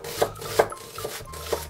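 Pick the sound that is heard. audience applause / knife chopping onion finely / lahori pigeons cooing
knife chopping onion finely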